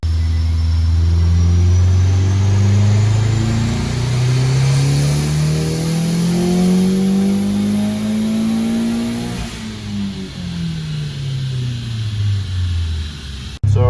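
A tuned custom car engine on a dyno pull climbs steadily from low RPM toward redline in one long, loud rising drone, then drops off sharply as the throttle closes.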